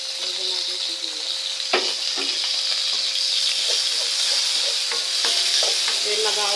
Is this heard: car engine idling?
no